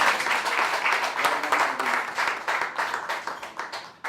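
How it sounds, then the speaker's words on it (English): Warm audience applause at a regional awards ceremony in Cape Town, lively clapping that holds strong and then thins and fades toward the end. "Give another round of applause."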